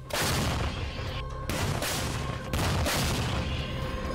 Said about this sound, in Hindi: जेवलिन से भी जोरदार हमले यूक्रेन होवित्जर तोप से कर रहा है।